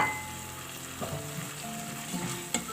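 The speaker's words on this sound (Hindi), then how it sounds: "चिकन शामिल करेंगे अच्छे तरीके से मसाले को भूनेंगे" Chicken fries with masala and sauces in a pan for a stuffed bun filling, with a steady close sizzle. Occasional stirring scrapes sound against the pan, along with one sharp clink near the end, with no talking.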